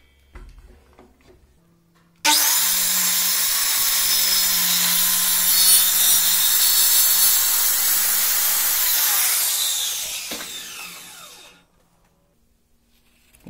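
A saw bites into a solid wooden plank during table building, a loud continuous rasping cut starting abruptly after a quiet moment, holding steady for about eight seconds before tapering off and stopping.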